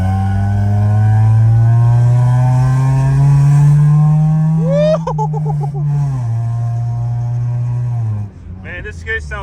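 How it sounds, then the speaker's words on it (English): A Honda Integra Type R on a late-night drive, its engine droning loud and near as it holds and climbs through the revs, with shifts and a sharp rev change near the end while someone talks over it. "Damn, I love how this car sounds, man."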